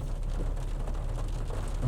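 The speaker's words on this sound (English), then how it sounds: "you can hear the rain's really starting to come down." Steady rain coming down outdoors on the road to Panama City, a dense, even wash of noise holding at constant loudness throughout with no voices.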